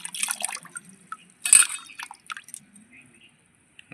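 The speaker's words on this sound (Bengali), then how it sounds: "বন্ধুরা, আলুগুলো আমার কাটা হয়ে গেছে, এখন ভালো করে ধুয়ে নিতে হবে।" Freshly cut potatoes being washed by hand in a bowl of water: intermittent splashes, drips and sloshing bursts, close by, with quiet gaps between and a stronger splash midway.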